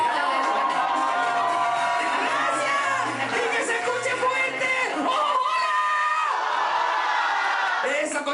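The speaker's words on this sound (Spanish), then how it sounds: "Fuerte el aplauso para Randy Trueba." Studio audience on a TV comedy game show whoops and cheers loudly, with excited shouting, laughter and voices mixing in a lively continuous roar.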